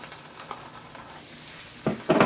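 Ginger garlic paste hitting browned fried onions in a pan, a low steady sizzle followed by louder bursts of frying and stirring near the end.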